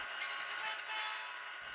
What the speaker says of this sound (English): F2 sounds the horn.